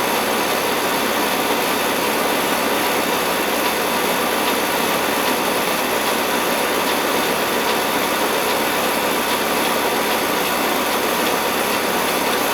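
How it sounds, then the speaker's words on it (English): An old Ruud air conditioning unit's compressor runs steadily, a dense, constant mechanical hum with broadband hiss, close and unbroken throughout with no talking. "Compressor's not sounding all that hot."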